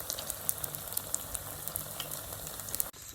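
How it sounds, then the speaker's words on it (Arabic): Chocolate pastries frying in hot oil, a steady fine sizzle with scattered crackling pops throughout, fairly faint, cutting off abruptly near the end. "ناخدها وننزلها في الزيت"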